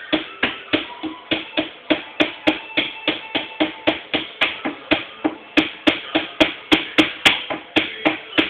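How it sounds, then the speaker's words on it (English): Something being hammered in with a steady, even run of about two dozen sharp, close strikes, roughly three per second, with no talking over them. "Hammer it in."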